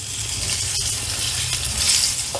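Stuffed bitter gourd sizzling steadily in an oil-filled pan as the pieces are flipped over, a continuous close frying hiss with a soft clink of utensil partway through.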